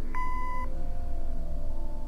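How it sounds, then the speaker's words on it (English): A single electronic answering machine beep in a video game, a steady tone with harmonics lasting about half a second, followed by a quiet low background hum. "Leave a message after the beep."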